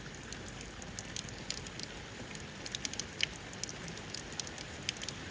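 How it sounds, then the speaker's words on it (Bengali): Soft, steady rain patter with scattered crisp drips and taps, fairly quiet and continuous, with no voices. "সকাল থেকে প্রচুর বৃষ্টি হইতেছে। বৃষ্টির শব্দে আসলে অনেক ভালো লাগে"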